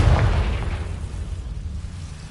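A Confringo blasting curse bursts in Hogwarts Legacy, a single loud explosive boom at the start that fades into a low rumbling tail.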